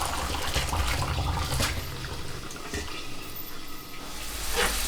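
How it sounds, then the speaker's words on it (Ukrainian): Water drained off cabbage that was boiled for five or six minutes for a stewed cabbage dish, a steady pouring and splashing rush that runs for the whole stretch without talk. "І зараз повністю стіджую воду."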